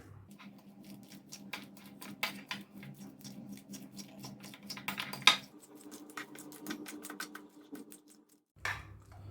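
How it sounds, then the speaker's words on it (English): A spoon mixes deviled egg yolk filling with American mustard in a bowl, tapping and scraping in quick irregular clicks over a low steady hum. A short pause comes near the end. "Now give everything a nice mix."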